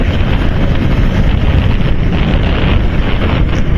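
Strong, steady wind buffets the microphone during a ride over a city flyover, a loud continuous roar with no break.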